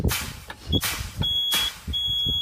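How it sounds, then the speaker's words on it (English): A truck's low air pressure warning alarm sounding inside the cab as the air brakes are fanned down, a repeated high electronic beep in short bursts over rumbling cab noise. "our low air alarm came on at around 60"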